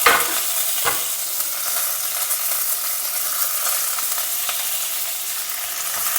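Three dry red chillies, two chopped green chillies and curry leaves hit hot oil and sizzle loudly and steadily, a dense, continuous frying hiss with a sharper pop or two near the start.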